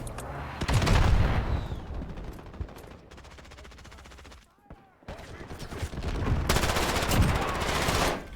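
Bursts of P90 submachine gun fire in Modern Warfare 2019, two loud rapid-fire strings separated by a quieter stretch of shots and game sounds.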